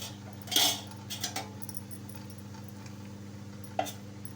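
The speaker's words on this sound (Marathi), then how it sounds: "तर आता आपण इडली काढून घेऊया चमच्याने" A spoon scrapes and clinks against metal idli plates while lifting out rava idli, a few light metallic taps near the start and one more near the end, quiet and close with no voices.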